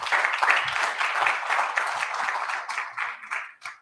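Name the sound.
audience applause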